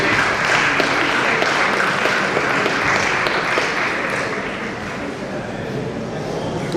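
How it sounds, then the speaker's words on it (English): An audience at a law week event of the Nigerian Bar Association's Benin branch claps as a distinguished guest arrives to take his seat. Dense, loud clapping mixes with crowd noise and fades slightly toward the end. "Give him a great clap, please."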